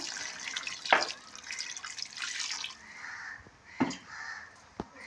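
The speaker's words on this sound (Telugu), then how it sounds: "తగిన నీళ్ళు వేసుకుందాం" Water poured into a pan of fish for curry, a light running splash with a few sharp drips and knocks, moderately close and fairly quiet.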